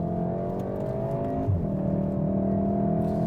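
A VW Golf R engine holds a steady, loud drone, then dips in pitch around a gear change into second before pulling again, heard from inside the car with no talking.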